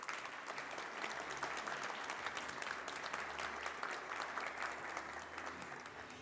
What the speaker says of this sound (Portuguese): Palmas para o Plínio